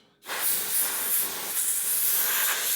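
An air compressor's nozzle blasts a sudden, steady, loud hiss of compressed air to clear gunk from a chainsaw bar's channel, starting abruptly and continuing close up without talk.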